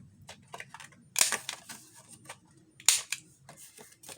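Corner rounder or punch trimming the paper corners of a spring birds journal, giving two sharp, close snips about two seconds apart, with quieter paper handling and rustling between them.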